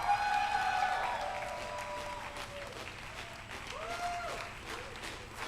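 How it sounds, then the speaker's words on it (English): An audience at a Black Pride heritage awards event applauds a ballroom honoree with scattered clapping and cheers, while whoops and wavering voices call out over the crowd. "give him a round of applause"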